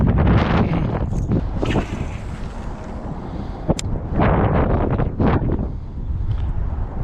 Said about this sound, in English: I tell you what, that wind is brutal.